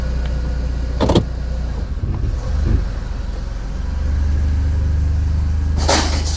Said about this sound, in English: So just have a quick drive, turn the car off, turn it back on